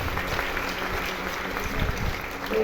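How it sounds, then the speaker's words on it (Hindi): An audience at a spiritual talk claps together, a steady dense patter of hands filling the moment, fairly close and without speech over it. "तब ताली बजानी है अपने आप के लिए बजाना।"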